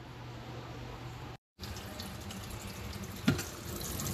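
Tap water runs steadily into a sink while a can is rinsed clean after a pellet-gun penetration test, with a brief knock partway through and no talking.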